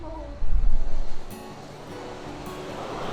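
Waves on a clean beach at the Giant's Causeway in Ireland: a near wave surges and breaks loudly, then settles into a softer continuous wash of surf under light wind.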